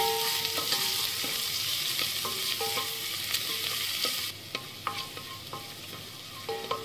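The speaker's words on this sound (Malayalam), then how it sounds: "ഇനി ഇതിലേക്ക് സവാള ഇട്ടൊന്ന് വഴറ്റാം." Sliced onions sizzle steadily in a hot pan for a home-cooked vegetable soup, with a spatula scraping and stirring at intervals; the frying hiss drops a little partway through while the clinks of stirring carry on.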